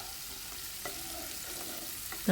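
Prawn fry stirred in a hot pan after the water has cooked off, with a continuous crackling sizzle and the scrape of a spatula, briefly louder at the very end.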